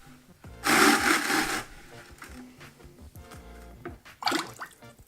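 A frost porcelain soft-slab tripod mug plunged into a bucket of glaze, giving a loud wet sloshing rush that fades, then a second splashy swirl as it lifts and drains.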